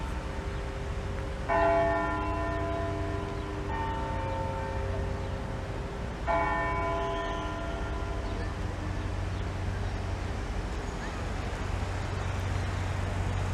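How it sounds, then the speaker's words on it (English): Church bells ring out the hour of 4 p.m. in a few separate strikes, each tone lingering and fading, over a steady low hum of street traffic in downtown Toronto. "As the bells signal that it is 4 p.m."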